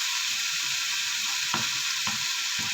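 Chicken and mushrooms fry in a pan with a steady, hissing sizzle, broken by a few soft scraping knocks as the food is stirred.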